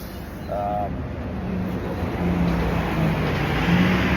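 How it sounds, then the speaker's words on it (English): A bus passes on a busy road outside a home, its engine a low, rising rumble amid steady traffic noise, swelling louder toward the end as it draws near. "there's going to be buses going time to time."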